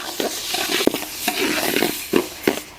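Split green gram lentils dry roasting in a pan for payasam, stirred with a spoon: scraping and rustling strokes with soft sizzling, moderately close, no speech.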